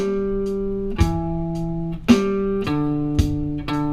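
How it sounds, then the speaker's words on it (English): A Super Metronome app drum beat set to 55 BPM gives slow, evenly spaced hits about once a second, over sustained, ringing tones that shift pitch with each beat. "It's a metronome but with drum beats instead of just clicks."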